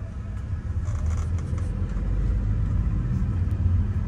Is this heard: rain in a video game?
no